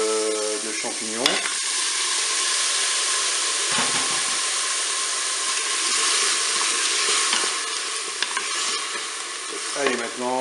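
A mushroom mix sizzles steadily in a Cookeo multicooker for spaghetti forestière, a dense continuous frying hiss with occasional stirring scrapes and clatters, close and loud, no talking.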